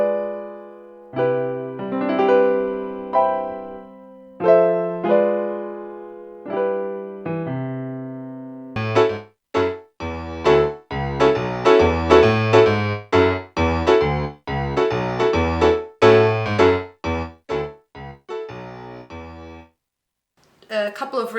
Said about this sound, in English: I'm more of a fan of the Kross Grand Piano 2, and it sounds something like this.